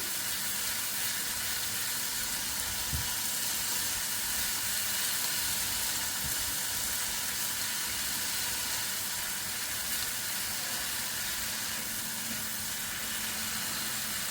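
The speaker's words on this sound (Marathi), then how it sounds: "हे थोडा वेळाचं परतवून घ्यावं व्यवस्थित।" Dabeli masala with salt sautéed in a pan gives a steady, moderately loud sizzling hiss throughout, with no talking.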